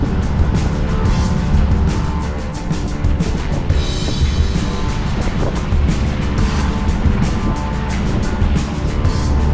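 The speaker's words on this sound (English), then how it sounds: "I've still got the motor running" A sailboat's motor runs steadily at sea in rough conditions, its low drone blending with loud wind buffeting and waves slapping the hull, with no talk.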